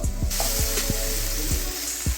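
Water is poured into hot masala frying in a pan for rajma curry, making a loud, continuous sizzle and steamy hiss, with a few clanks of the pan or spoon.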